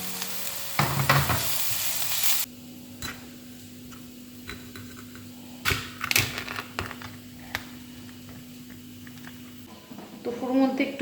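Minced garlic and onion fry in oil for a Japanese-style tofu dish, a soft steady sizzle under occasional stirring and utensil clicks, with brief louder bursts at the start and end.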